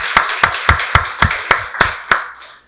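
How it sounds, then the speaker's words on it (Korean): A church congregation at a Sunday service claps in a quick, even rhythm, about nine loud close claps that slow and fade out at the end. "박수로 하나님께 영광 돌리겠습니다."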